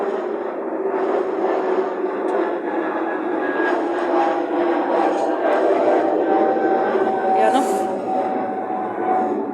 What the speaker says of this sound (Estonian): siin on lennukid kohe selja taga